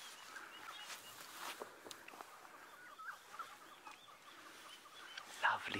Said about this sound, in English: Lovely bird calls all the way through the woodland here.